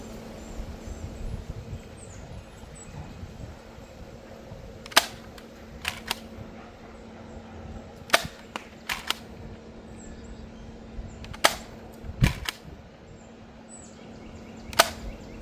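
An Adventure Force Delta Pro blaster fires orange-tip Worker foam darts, a series of sharp, close snapping shots spaced a second or so apart, some in quick pairs, over a low steady background hum.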